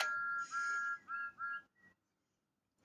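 A Thomas toy train gives a series of short, high electronic whistle toots, the first two longer and the later ones choppy and uneven, then silence.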